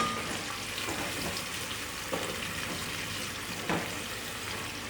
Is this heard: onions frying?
yes